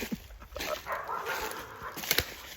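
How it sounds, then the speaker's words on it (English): A dog barks and yips in a yard where pigs are being chased, fairly faint and distant, with scattered short barks and whimpers over rustling background noise. "this dog is chasing my pigs all over the place"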